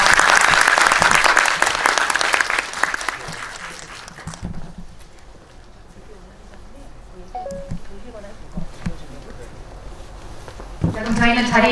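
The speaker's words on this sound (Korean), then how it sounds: "박수로 환영해 주세요." An indoor audience at a Drive My Car re-release event claps loudly and steadily for several seconds to welcome the actors, then the clapping fades into quieter room noise and talking.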